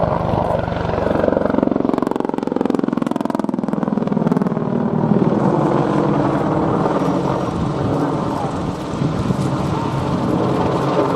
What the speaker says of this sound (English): The bunt sees the aircraft pitch from 90 degrees nose up to 90 degrees nose down at the highest point of the manoeuvre.